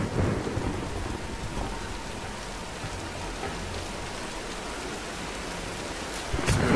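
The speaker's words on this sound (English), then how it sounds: "let's wait out the storm" Heavy rain pours steadily during a thunderstorm in the Tomb Raider video game, with low rumbling thunder underneath and a sharper crack near the end, no speech.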